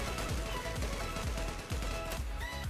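Repeated gunshots in a first-person shooter game, a series of punchy thuds and cracks at irregular intervals under a busy, noisy background.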